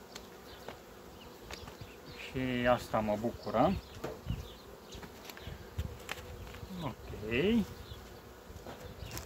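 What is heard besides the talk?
bees buzzing around a bee cake with essential oil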